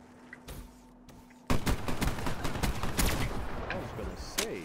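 Rapid bursts of automatic gunfire from the video game Black Ops III, loud and close, following a short quieter lead-in with a few muffled shots, with overlapping rounds crackling through the rest.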